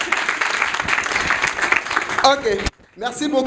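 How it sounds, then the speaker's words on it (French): Applause fills a hall during a school integration day after a president's speech. It is dense and steady for about two seconds, then fades as someone speaks briefly, with a short silent gap. "Si vous avez aimé, encore vos applaudissements."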